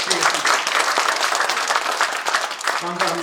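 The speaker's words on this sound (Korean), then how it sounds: "우리 모두가 감사의 박수를 한번 드리겠습니다" A church congregation at a Christmas thanksgiving service gives a round of applause, dense clapping filling the room for a few seconds, with a voice speaking briefly near the end.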